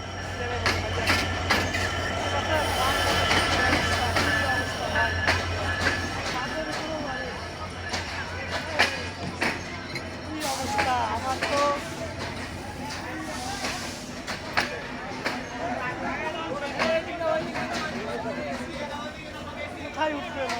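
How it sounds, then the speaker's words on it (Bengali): A packed train station on the day before Eid, crowds of holiday travellers talking over one another beside a hissing, rumbling train, with a steady low hum and scattered clatters and calls close by. "দেখেন প্রচুর পরিমাণ ভিড়, মানুষ ঈদের ছুটিতে নিজের পরিবারের কাছে যাওয়ার জন্য দেখেন কত ভিড় ট্রেনে"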